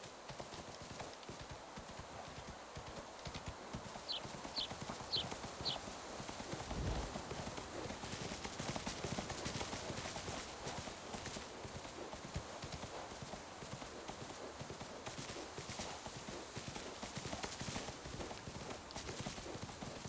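Steady clip-clop of horse hooves in the video game Windstorm: An Unexpected Arrival runs throughout, a brisk continuous trotting rhythm at close range, with a brief neigh partway through.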